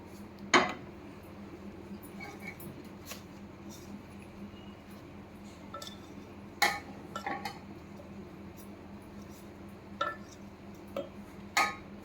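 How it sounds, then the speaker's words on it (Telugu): Fried coconut being mixed in a bowl for laddu, heard as a few sharp spoon-on-bowl clinks and scrapes spread over a quiet background, fairly close and sparse. "ఆ బౌల్లో అది వేసేసుకుని మిక్స్ చేసేద్దాం"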